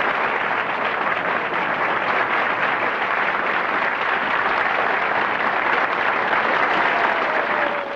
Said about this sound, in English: Listen to that warm applause.